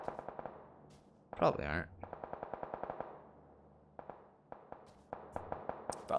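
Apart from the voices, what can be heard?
suppressed sniper rifle gunfire in an Xbox video game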